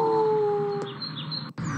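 A dog lets out a single long, steady howl that slowly drops in pitch and fades, heard up close and alone.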